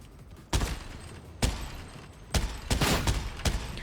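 Heavy stubber fire in a video game: several separate loud bursts of rapid shots spaced across a few seconds, close and punchy, with no talking.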